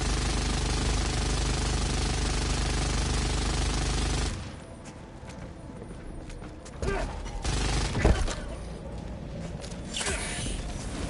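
Rapid bursts of automated sentry turret fire in Helldivers 2 crackle through a busy battlefield mix, with sharp shots clustering near the middle of the stretch and ongoing mechanical din around them.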